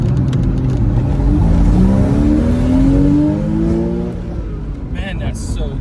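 A 2002 Porsche Boxster with a five-speed manual pulling away from a green light, its engine note rising steadily as it accelerates, loud and close from inside the car, then easing off.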